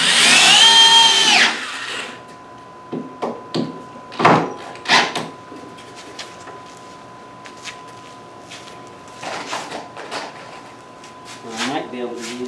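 A power drill drives long screws into a wooden workbench in short bursts, loud and close, with clunks of wood and tools between the runs and someone talking at the start.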